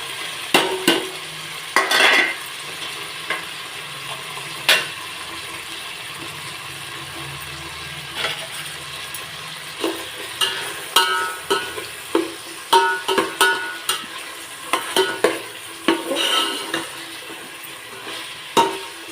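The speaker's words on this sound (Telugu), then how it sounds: "ఇప్పుడు ఉల్లిపాయ పచ్చిమిర్చి కూడా వేసేద్దాం" Onion and green chillies frying in ghee or oil for mutton biryani, with a steady sizzle under repeated scraping and clinking as a spoon stirs the pan close by.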